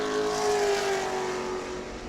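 Sportsman race car lapping the track during qualifying at New Smyrna, a loud engine roar with a steady tone that swells and then slowly fades as it passes, heard alone without talk.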